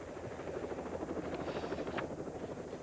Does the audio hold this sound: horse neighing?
no